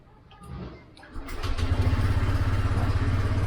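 A Honda Click 125 scooter engine starts after an oil change, catching after a brief crank and settling into a steady, close idle hum that runs through to the end.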